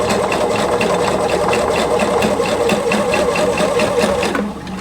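Sewing machine running steadily and loudly, stitching rows for bound buttonholes on fabric, with a fast even needle rhythm that slows and stops near the end; no talking.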